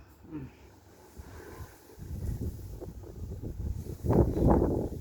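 Steady wind buffeting the microphone in low rumbling gusts outdoors beside an olive tree, growing stronger toward the end.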